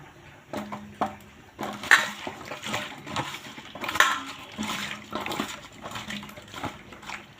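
Ripe papaya pieces rinsed by hand in water, soft intermittent splashes and sloshes with a few light clinks of a bowl, close and fairly quiet, no speech.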